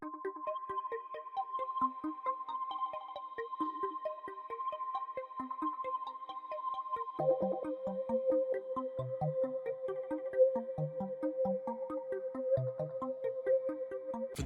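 Arpeggiated synth pattern called Hand Soap, from the pakzz Serum bank, runs alone as a steady stream of quick plucky notes, climbing and falling in a bright melodic loop. Midway it drops into a lower register and keeps the same even rhythm.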